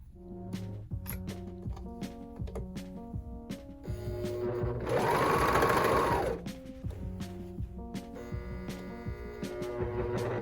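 A serger stitches and trims a fabric bat wing face mask with a filter pocket in quick, close mechanical bursts. A longer, louder run of stitching comes midway, and there is no talking.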